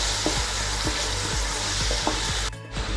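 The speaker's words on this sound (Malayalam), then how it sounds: "നന്നായിട്ട് ഇളക്കി കൊടുക്കാം." Mixed vegetables sizzle and fry steadily in a pan with salt added, while a spoon stirs them in repeated scraping strokes that rise above the continuous close hiss.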